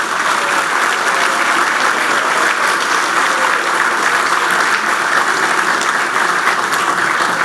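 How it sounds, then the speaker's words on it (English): A roomful of members at a 2017 annual general meeting claps for retiring governors, steady and dense throughout with no break or swell. "A round of applause for these retiring governors,"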